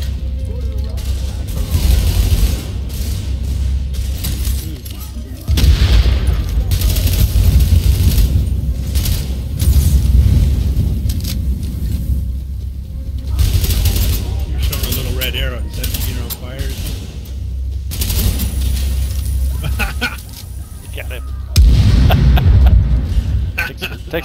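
Sustained, dense gunfire from The Division's co-op combat comes in repeated bursts and clattering volleys with mechanical rattles, loud and close. A player talks through parts of it.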